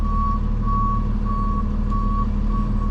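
Truck backing up, its reversal alarm beeping in a steady repeating rhythm over a loud, continuous engine rumble, with no talk.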